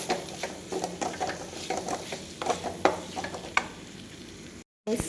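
Chili powder and turmeric go into food frying in a pan, stirred with a spoon in a steady run of close scraping clicks and taps over a low sizzle, then a sudden cut to silence near the end.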